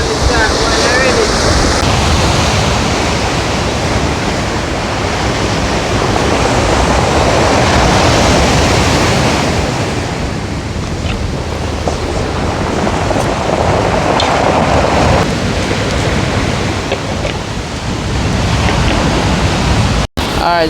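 Water in a pot on a stove heating toward a boil for saltfish and ackee, a steady broad rushing, bubbling hiss that fills the whole stretch close up, with a brief sharp click near the end.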